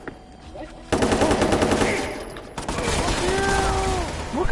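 Rapid machine gun fire from a video game, bursting in loudly after a quiet moment and continuing in dense rattling volleys with a brief lull, game sound effects mixed over it.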